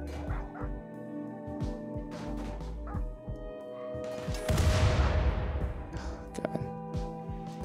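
Dogs in the Rimworld colony sim barking and whimpering during a raid, short yips and whines amid game effects, with a loud burst of noise midway and steady background music.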